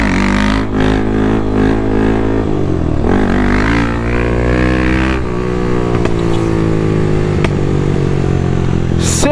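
A 2023 Honda CB300F Twister fitted with a Dore aftermarket exhaust runs loud and close, its engine note swelling and dipping through repeated revs and gear changes, with a few sharp pops.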